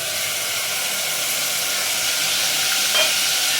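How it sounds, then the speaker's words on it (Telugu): Marinated chicken for pepper chicken frying in ghee in a pan: a steady, even sizzling hiss continues without a break, with no voices. "మనము మ్యారినేషన్ చేసి పెట్టుకునేటువంటి చికెన్ ఉంది కదా, అది వేసేసుకున్నాము."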